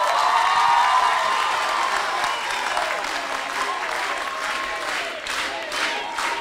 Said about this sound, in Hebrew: מגיע לה מחיאות כפיים, לה ולכל המתנדבים שהשקיעו פה מאות שעות אדם בהתנדבות